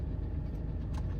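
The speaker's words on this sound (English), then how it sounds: "turn the engine off" A car engine idling steadily at close range with a continuous low rumble, shortly before being switched off, in a crowded parking area.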